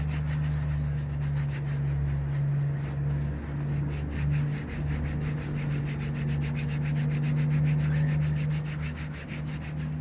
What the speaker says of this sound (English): Just kind of heating it up by rubbing it, heating up, working it into the fibers.